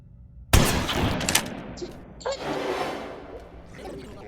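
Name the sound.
gunshots in the Granny Chapter 3 video game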